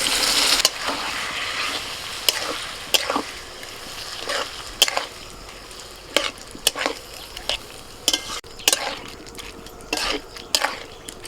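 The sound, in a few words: washed red lentils added to pan and stirred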